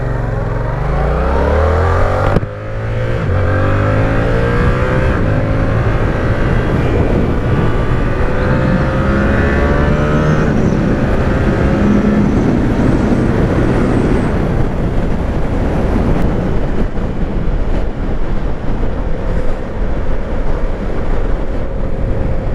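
Yamaha R7 700 sport motorcycle accelerating hard through its rev range, a loud, continuous engine roar that climbs in pitch, drops at a gear change, then climbs again, heard up close from the rider's position.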